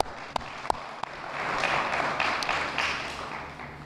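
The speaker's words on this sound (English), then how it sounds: "let's give another round of applause for all of the courageous speakers today" Applause from an outdoor Pride in the Park audience for the day's speakers, beginning with a few sharp isolated claps and then swelling into a scattered, moderate round of clapping from a crowd.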